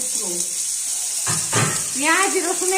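Onion pieces, with garlic, dropped into hot oil for a Bengali katla fish kaliya, give a steady close sizzle and crackle while a person speaks over it.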